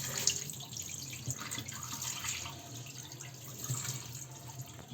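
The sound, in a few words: tap water running while washing chicken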